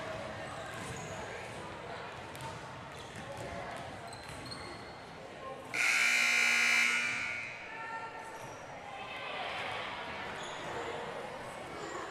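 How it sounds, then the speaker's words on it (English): Gym buzzer sounding before a girls' high school volleyball match, a loud sustained electronic tone of about a second over a noisy crowd with ball bounces and distant talk. "And the buzzer sounds"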